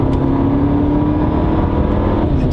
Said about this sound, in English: if you go to sport mode and fully accelerate